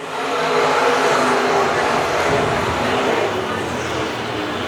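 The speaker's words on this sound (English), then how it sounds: "the stock cars come screaming to life here in Wheatland" USRA stock cars racing at a track in Wheatland, a dense, loud engine roar sustained throughout with broad mechanical noise, as of a pack of cars running together under a featured-class race.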